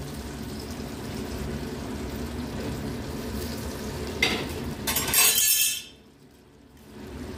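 A lid is set down on a pot of simmering Bengali lau shukto on a gas flame at medium-low, giving a couple of close, bright clinks and a short rattle over the steady sizzle and bubbling, after which the sound drops to near quiet.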